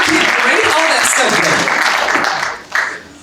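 Audience applause at an event, dense clapping from many hands that stays strong then drops off, with voices mixed in near the end.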